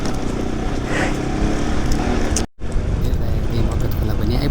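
A motorbike climbs a steep mountain road in Nepal. The engine rumbles continuously up close while someone talks over it, and the sound cuts out briefly midway.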